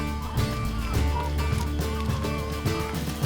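Busy, chaotic poultry noise: overlapping clucks from chickens and quacks with honking calls from Muscovy ducks feeding on bok choy, a flock gathered close, continuous and loud throughout.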